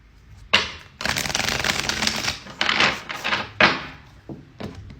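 Tarot cards are riffled and shuffled in several quick bursts, crisp and close, with short pauses and a few soft taps between them.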